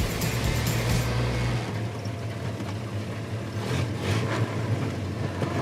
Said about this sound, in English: nice double clutch downshift